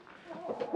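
Chantecler roosters and hens in a coop, clucking and squawking in a brief, busy burst of overlapping calls at moderate distance.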